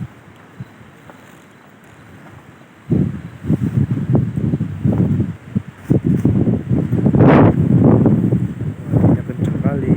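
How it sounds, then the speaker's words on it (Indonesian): Strong gusting wind buffets a campsite in Cibodas National Park where a tent pole has snapped, roaring and rustling loudly against the microphone, while people talk nearby. "Anginnya kencang kali."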